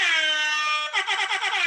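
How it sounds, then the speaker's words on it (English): An air horn blares once at close range, a steady loud tone that breaks into short pulsing bursts near the end, with no voices. "So I'll give myself the air horn"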